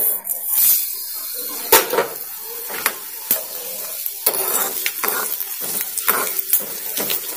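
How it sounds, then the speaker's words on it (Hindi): Fennel and cumin seeds fry in oil with a light crackle, set against louder stirring scrapes and clinks of a spoon on the pan, close by, with no one talking. "सौंफ और जीरे अच्छे गोल्डन ब्राउन होने तक भूनेंगे।"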